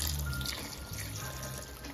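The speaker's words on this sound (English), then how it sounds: "I'm going in with some hot water" Hot water, about a cup, pours into a cooking pot of chicken and pork pastelle filling, a steady soft rush of liquid heard close by with no talking.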